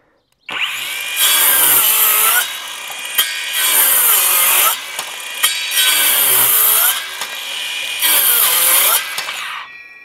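A YUANSEN cordless circular saw cuts through a 50 mm wooden block, its motor whining up and biting loudly in four long cutting passes separated by brief dips, close and alone without talk.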